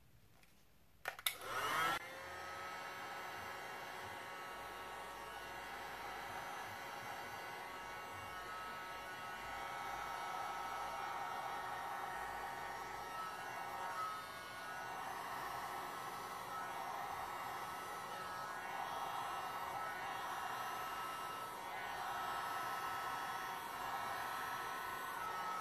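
A hair dryer blows over poured resin art, starting with a click and then a steady, close whooshing airflow that holds for the whole stretch with slight fluctuations.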